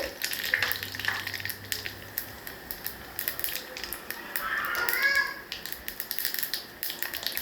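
Tempering seeds crackle and sizzle in hot oil for a yellow cucumber chutney, with sharp popping taps scattered over a steady frying hiss.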